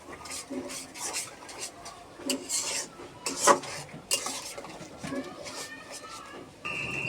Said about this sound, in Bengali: ভালোভাবে মশলা দেওয়ার পর এখন কষিয়ে নেব ভালোভাবে